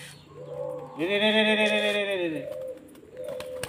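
A racing pigeon coos nearby in one drawn-out, throaty call that swells and fades, with faint rustling and a brief later murmur around it.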